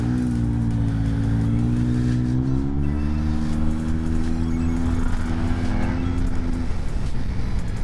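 A 2020 Yamaha TMAX maxi-scooter rides along, its engine hum steady and rising gently in pitch with acceleration, close and continuous over wind and road noise.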